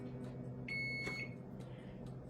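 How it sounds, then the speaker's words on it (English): A kitchen oven timer goes off while a caramel cheesecake bakes, giving one bright, steady electronic beep of about half a second, faint over a constant low background hum. "my timer's going off"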